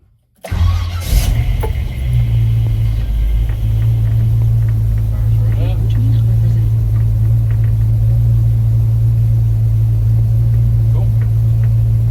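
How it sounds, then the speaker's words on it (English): A 1971 Chevrolet K10 fitted with Dynomax Super Turbo 17733 mufflers cranks over and fires on a very cold start after weeks of sitting, settling straight into a loud, steady, deep exhaust rumble close by. "this is gonna be the first start in about 2-3 weeks, so this is gonna be a very cold start"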